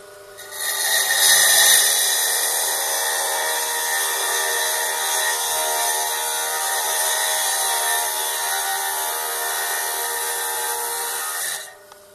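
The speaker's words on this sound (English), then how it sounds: "I'm using my Gemmaster freehand saw with a 6-inch continuous sintered rim blade." A Gemmaster freehand saw with a 6-inch continuous sintered rim blade cutting a Mintabie opal specimen, a steady, loud, high-pitched grinding whine that holds for about ten seconds before stopping.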